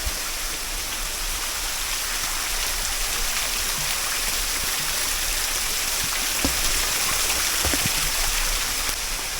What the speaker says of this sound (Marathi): माझ्या इथे पाठीमागून इथे पाणी पडतंय